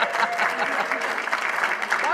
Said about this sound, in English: We clap for our Parks and Rec.